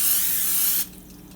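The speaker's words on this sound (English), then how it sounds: "I'm going to be using some butter spray. Spray that on the pan." A steady aerosol hiss of butter spray onto a pan sprays for under a second, then cuts off sharply, leaving quiet room tone.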